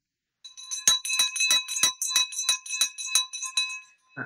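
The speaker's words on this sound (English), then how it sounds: "So we've got the victory bell ring for Mike Whitehead here." A metallic victory bell rings about a dozen times in a steady, fast rhythm, bright and close, each strike ringing on into the next.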